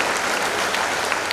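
A large crowd applauds at a youth forum gathering, a loud, dense and continuous clapping that fills the whole moment without a break.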